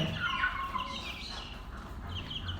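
White fancy hens cluck and murmur softly in a noisy coop, short scattered calls over a steady rustling background, no talking.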